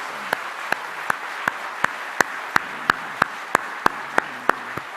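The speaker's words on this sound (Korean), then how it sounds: "하나님께 영광의 박수를 드리십시다." A church congregation at Sunday worship claps in unison, steady rhythmic claps landing roughly three times a second, crisp and evenly spaced over a quiet room.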